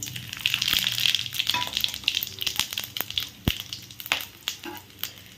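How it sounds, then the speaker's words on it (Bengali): Whole spices — cinnamon, cardamom, cloves and two dried chillies — tempering in hot oil and ghee for a cauliflower rezala in a home kitchen, a close, steady sizzle and crackle with scattered sharp pops and clicks, no talking. "দারচিনি এলাচ লবঙ্গ দুটো শুকনো লঙ্কা ফোড়নে দিয়ে দিলাম"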